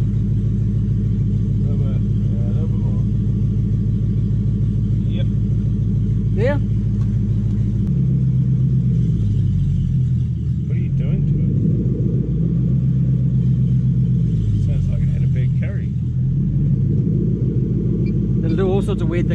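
A Toyota 1UZ-FE VVTi V8 freshly swapped into a Mk3 Supra idles with a steady, loud low rumble that dips slightly partway through, running continuously under people talking nearby.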